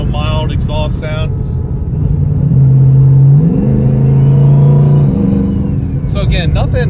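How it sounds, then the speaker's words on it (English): A single-turbo car with the window closed gives a mild, muffled exhaust drone that rises as it accelerates, close and steady, with someone talking before and after. "I want to pop the window up and give it just a little, you know, mild exhaust sound."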